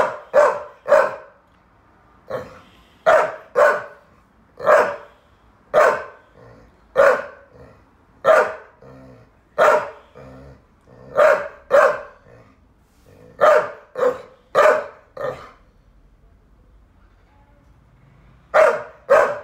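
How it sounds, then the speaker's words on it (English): A Saluki and a Staffordshire-Ridgeback cross bark repeatedly in quick bursts, loud and close, with a short pause midway before the barking resumes. "They bark at me."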